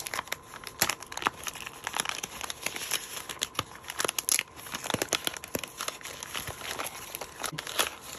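Blade slicing through heavy packing tape on a mailed package, with dense crinkling, tearing and scraping bursts running steadily and close.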